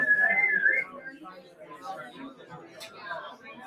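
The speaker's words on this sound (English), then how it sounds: "Can anyone whistle really loud?" A loud whistle rings out briefly at the start, then fades into a murmur of crowd chatter and overlapping voices.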